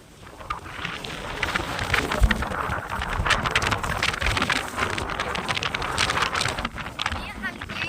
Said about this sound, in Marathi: वारं खूप सुटलेलं आहे त्याच्यामुळं सगळं उडून जात आहे